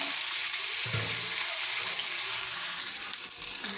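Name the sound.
chana fish pieces frying in oil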